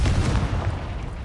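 The Confringo blasting spell in Hogwarts Legacy erupts as a dense, rumbling explosion, loud and sustained with no clear attack, filling the whole moment without talk.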